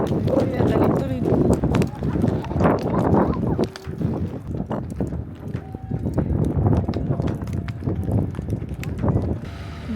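Horse ridden on a trail near Kolsai and Kaindy lakes in Kazakhstan, hooves clopping in a loose, uneven rhythm close by, mixed with wind noise and a rider talking throughout.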